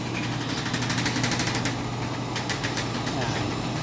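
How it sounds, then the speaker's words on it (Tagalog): A blower fan switched on beneath a cooking fire gives a steady, loud motor whir and rushing air throughout, with a constant low hum and some rattling texture. "Buksan na natin yung blower"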